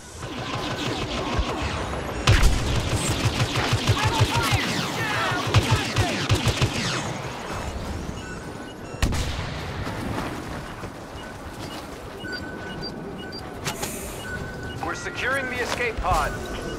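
Blaster fire in the Star Wars Battlefront beta, Drop Zone mode: repeated sharp energy-weapon shots and crashing impacts in bursts amid loud battle noise, with a player talking over the action.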